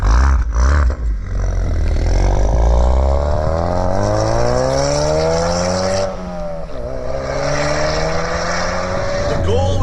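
A Ford Focus RS fitted with a Mountune exhaust accelerates with a loud, close engine roar, pitch climbing through gears with brief dips at shifts, the interior drone continuous throughout.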